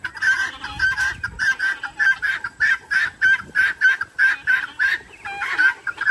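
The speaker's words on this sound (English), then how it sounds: "We've never had this many birds in the pen, ever." A crowded pen of fowl, including chickens and turkeys, gives a loud, steady run of rhythmic clucking and honking calls close by, repeating roughly every quarter second with no talk over it.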